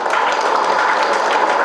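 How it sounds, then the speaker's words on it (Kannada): Students in a classroom give a burst of applause, dense and even clapping heard close by throughout, with no talk over it. "ವೆರಿ ಗುಡ್, ಚಪ್ಪಾಳೆ ತಟ್ಟಿ ಅವ್ರಿಗೆ"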